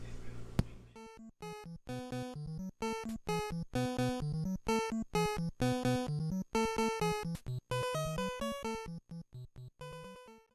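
Chiptune-style theme song from the NES Ghostbusters game, built from bright square-wave melody notes over a pulsing bass line in a steady, bouncy rhythm, playing cleanly without any voice.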